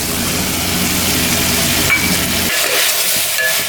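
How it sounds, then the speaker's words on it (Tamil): Tomatoes and chow chow sauté in a pan for sambar, making a loud, continuous close sizzle with stirring. The low rumble drops away partway through while the hissing fry carries on. "தக்காளி வதக்கிட்டு வருங்க."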